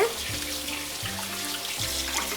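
Water runs steadily from a tap, a broadband splashing stream used for smoothing gluten-free mini Parmesan baguette dough, with low hum underneath and no talking.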